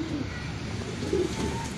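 Pigeons cooing near a cage with a trapdoor, soft low coos at the start and again about a second later over faint background noise.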